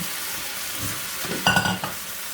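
Thinly sliced marinated beef and gai lan stir-fry in a hot pan, giving a steady loud sizzle with a brief burst of scraping and clatter as the beef is tossed in.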